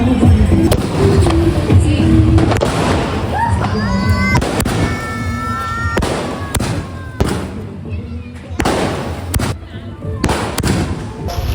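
Fireworks and firecrackers burst outside a shop during a Deepavali celebration, with repeated loud cracks and bangs, whistling rockets rising in between, and people talking over the noise.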